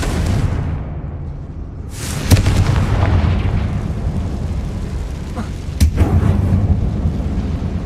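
A Confringo blasting spell going off in the Hogwarts Legacy game, deep booming explosions with a sharp crack near two seconds and another near six, each followed by rumbling debris. The game's sound fills the rest.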